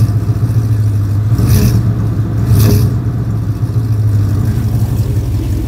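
A Chevy Silverado's 5.3 V8 engine with long-tube headers idles steadily, then is briefly revved twice in quick blips before settling back to a low rumble.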